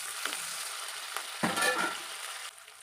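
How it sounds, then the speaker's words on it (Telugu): Hot oil sizzles and crackles steadily as a curry leaf tempering is stirred, with a few scraping stirs of a spoon through the pan; close and moderately loud. "చక్కగా కర్రీ ఈ విధంగా వేసి మంచిగా తాలింపు అంతా మంచిగా కలపాలండి"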